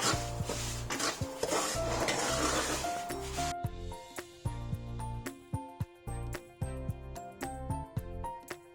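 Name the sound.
stirring semolina roasting in a pan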